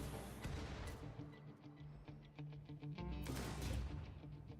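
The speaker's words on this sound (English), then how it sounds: "I hear a lot of explosions." Explosions and gunfire rattle through a Rimworld Odyssey battle, with repeated sharp cracks and thuds in quick succession over a low rumble, fairly quiet overall, with a louder burst near the end.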